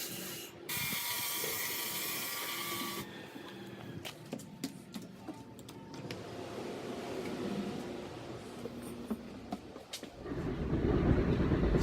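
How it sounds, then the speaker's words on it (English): Commuter train ride between Raritan, Newark and Secaucus in New Jersey: a continuous rumbling rail ride with rattles, clicks and hissing bursts, the noise swelling louder toward the end, no talking. "So I have to take a train from Raritan to Newark, from Newark to Secaucus, and then from Secaucus to the Meadowlands."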